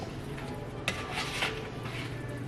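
Potatoes being mixed in a cooking pot at home: soft scraping and stirring clatter with one sharper knock of utensil against the pot, close and steady with no talk.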